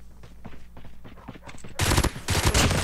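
Gunfire in Call of Duty Mobile starts as scattered shots and then becomes dense, loud automatic bursts in the second half, up close with no talk.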